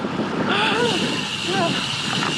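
Strong wind buffets a cyclist on a ride in South Australia, a continuous loud rushing roar across the microphone, with faint voice-like traces under it.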